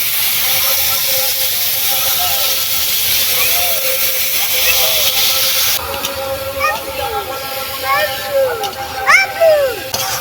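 Fish roe and pineapple sizzle steadily in a pan over a loud hiss, with scraping and clinking from stirring growing more frequent toward the end while a voice chirps faintly in the background.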